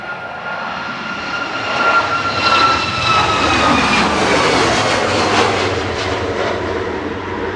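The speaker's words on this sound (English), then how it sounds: "Ryanair departing now to Budapest" A Ryanair jet airliner departs Manchester Airport in windy conditions, its engine roar loud and steady for the whole stretch, with a broad rushing wash and high whining tones drifting slowly downward. No one talks.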